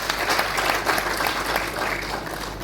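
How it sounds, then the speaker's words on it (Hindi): Audience at a grand Brahma Kumaris event bursting into loud, dense applause, many hands clapping together at close range for a couple of seconds without letup. "एक बार जोरदार तालियां उनके लिए"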